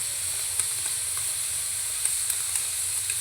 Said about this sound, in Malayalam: ചട്ടിയിൽ ഓയിൽ വയ്ക്കാണ്,